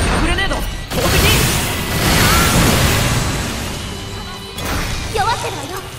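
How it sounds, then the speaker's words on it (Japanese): A grenade is thrown and explodes in the video game Sword Art Online Fatal Bullet, a loud whooshing crash and burst amid dense game effects, with a second impact sound near the end. "グレネード投擲。"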